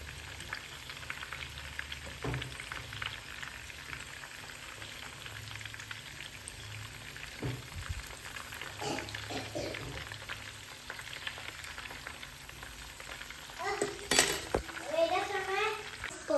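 Chicken pieces fry in a pan over a medium flame, giving a steady soft sizzle throughout, with someone speaking over it and a voice briefly near the end.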